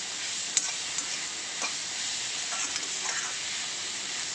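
Raw banana pieces sautéing in oil with onion and tomato, a steady soft sizzle throughout with a few faint stirring clicks.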